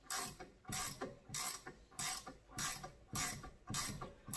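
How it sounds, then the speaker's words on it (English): Mechanical threading of a metal fitting into a 14-bolt rear steer axle, heard as a steady series of about seven rhythmic ratcheting bursts, each a close, fairly loud clicking sweep with short pauses between. "I usually put a little bit of pressure on the top and start threading it in."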